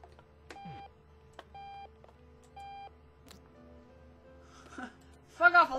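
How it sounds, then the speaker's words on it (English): Alarm clock in the Octodad video game, three short, evenly spaced electronic beeps at a moderate level, then a burst of voices at the end. "Fuck off, alarm clock!"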